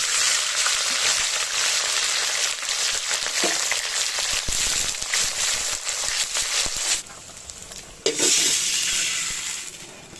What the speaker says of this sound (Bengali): আমি লাল করে উচ্ছেগুলোকে ভেজে তুলে নিলাম